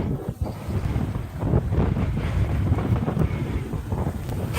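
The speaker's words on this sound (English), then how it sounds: "Couldn't hear you over the sound of the wind." Strong wind gusts buffet the microphone out on open ice during ice fishing, a steady loud roar with rumbling low-end blasts throughout, no talking.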